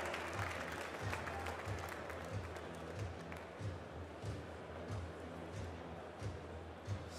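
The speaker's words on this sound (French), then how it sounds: "Monsieur Hervé Mons, sous vos applaudissements." Audience at a French cheesemakers' competition award ceremony applauds in a sustained, fairly distant wash of clapping, with muffled voices and amplified sound faintly mixed in.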